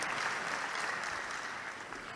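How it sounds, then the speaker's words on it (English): A graduation ceremony audience gives steady, dense applause for the speeches, heard at a moderate distance with no other sound on top of it. "Another round of applause for those heartwarming speeches."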